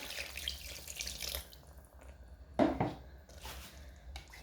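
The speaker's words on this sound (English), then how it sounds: "I'm going to add a bit of water" Water poured into a cooking pot of simmering sausages, a brief splashing pour near the middle of the clip against quiet kitchen background.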